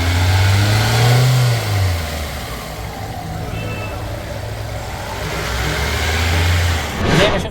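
A repaired car engine revs up and settles, a steady mid-pitched drone that rises and falls, with a voice speaking briefly over it.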